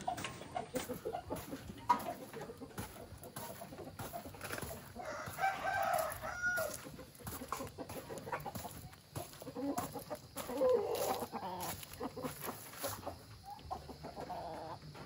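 Turkey clucking and gobbling calls repeat irregularly at moderate distance, with faint background noise and no talking.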